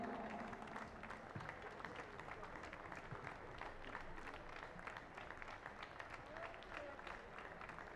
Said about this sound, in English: Please, a huge round of applause for each of the players.